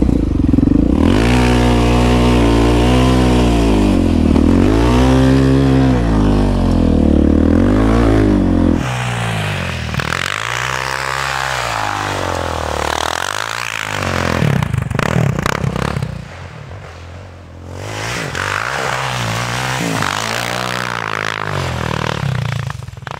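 A Yamaha Raptor 700 ATV fitted with Maxxis snow tires blasts through deep snow, its engine revving loud and close in repeated rising and falling surges, dropping back briefly before climbing again.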